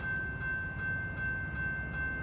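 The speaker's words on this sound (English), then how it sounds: "The next Metra train approaching your station will be a Metra Express train and will not stop." A Metra express commuter train rumbling through a station near Riverside, Illinois without stopping, with a steady loud low roar and a sustained tonal whine, no talk.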